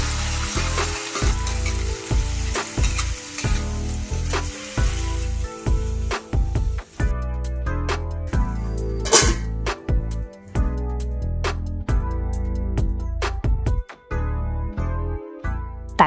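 Tomatoes and onions fry in a pan for a tomato egg curry, giving a steady, loud sizzle broken by frequent clatters and stirring knocks, with music-like tones running over it throughout.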